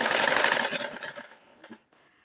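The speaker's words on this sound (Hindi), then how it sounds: "अब हम इसको स्टिच करेंगे। सिलाई लगाएंगे" A sewing machine runs a burst of rapid stitching along the sleeve seam of a kurti, loud and steady for about a second before slowing and stopping, with a few faint clicks after.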